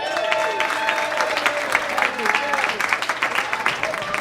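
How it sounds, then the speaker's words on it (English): Audience applause and cheering at a live comedy club show as a comedian takes the stage, dense clapping under crowd voices and a host speaking, tapering off toward the end. "You stopped clapping pretty fast"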